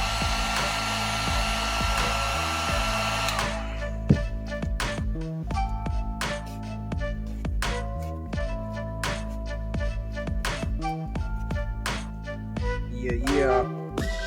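A heat gun blows steadily and loudly while it heats and shapes the cheek of a foam mask, a continuous rushing whir with small clicks and handling noises over it.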